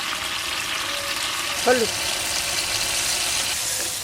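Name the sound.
spices with cumin and coriander sautéing in a pan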